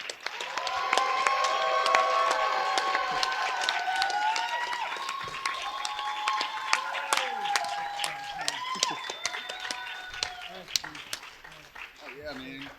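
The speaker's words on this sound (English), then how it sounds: "So huge round of applause, ladies and gentlemen," A Fan Expo San Francisco audience applauds and cheers for guest Tommy Henriksen: steady clapping runs throughout, mixed with loud whoops and raised voices, then thins out toward the end.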